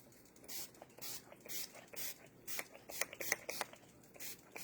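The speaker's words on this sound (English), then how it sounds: "So let's do the setting spray real quick." Makeup setting spray with moisturizer misted from a pump bottle, a quick series of short close hissing spritzes in an uneven rhythm, quiet and with no one talking.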